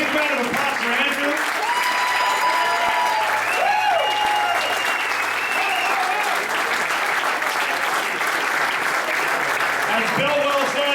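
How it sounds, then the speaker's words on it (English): Loud, sustained audience applause following a political speech, dense clapping mixed with cheering and shouted voices throughout, nearby and continuous. "Give it a big round of applause for Andrew."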